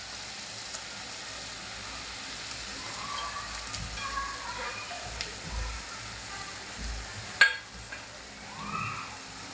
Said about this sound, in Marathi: मी आता ओली करंदी टाकते। करंदी पण टाकून घेऊया आपण।